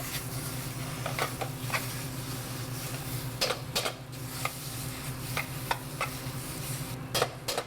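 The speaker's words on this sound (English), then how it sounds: "to saute the tomato paste" Tomato paste sautés in a pan for braised lamb, a soft steady sizzle with scattered clicks and scrapes of stirring, fairly quiet and close, with no talk.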